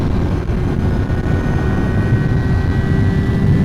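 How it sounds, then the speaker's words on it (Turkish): A KTM RC 390 sport motorcycle engine drones loud and steady at speed, blended with heavy wind roar. The sound stays continuous and close throughout, with no talking. "Biraz gaz, gaz açalım bir de."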